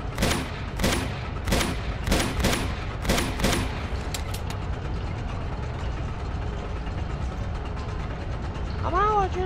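Bursts of gunfire from the video game Uncharted 2 crack out in rapid volleys for the first few seconds, then fade to a low ambient rumble with a faint tonal game effect near the end.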